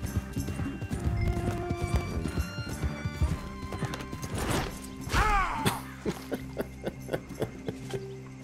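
A horse in Red Dead Redemption 2 clip-clops at a gallop and whinnies, hooves drumming steadily and loud, then slowing to a scattered few distinct hoofbeats toward the end.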